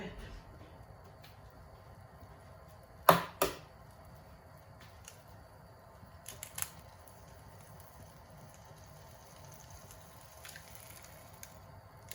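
An egg being cracked slowly into a greased egg ring for a homemade sausage and egg muffin: two sharp, close cracks in quick succession, then a few faint taps and a long quiet stretch.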